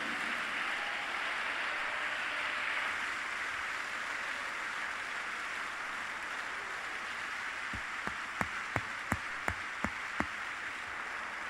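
Congregation applause during a Christian worship gathering, a fairly faint, diffuse patter of many hands throughout, ending with a few distinct, evenly spaced single claps.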